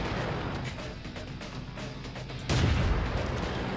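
A World of Tanks tank gun fires one heavy booming shot partway through, a loud low blast rising above a steady rumbling engine and battle backdrop.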